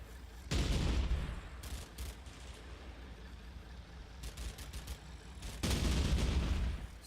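Gunfire in a Combat Mission Fortress Italy firefight around a farmhouse and hill: loud bursts of rifle and automatic weapon fire at the start and end, with a steadier, quieter crackle of distant shooting between.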